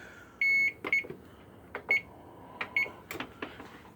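An oven timer beeps as it is set, several short, clean electronic tones, one longer, mixed with button clicks and handling knocks in a quiet kitchen.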